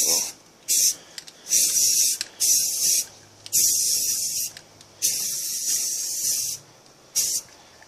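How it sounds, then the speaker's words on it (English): A spray can lays light coats of paint on a rifle in a string of short, close hissing bursts, about seven in all, separated by brief quiet gaps. "just kind of light sprays. It doesn't have to be caked on there."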